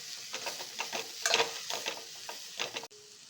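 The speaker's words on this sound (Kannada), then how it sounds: "ಈಗ ಇದೆಲ್ಲ ಮಿಕ್ಸ್ ಮಾಡ್ಕೊಳ್ಳೋಣ." A spoon stirs chili powder and turmeric into dhaba-style channa dal gravy in a hot pan, making repeated scraping strokes over a soft sizzle. The sound is close and stops abruptly near the end, with no talking.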